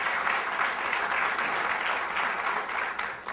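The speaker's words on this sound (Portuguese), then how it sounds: "Uma salva de palmas aí." Audience applause at a sustainability forum session, a dense, steady round of clapping from a seated crowd that holds evenly throughout.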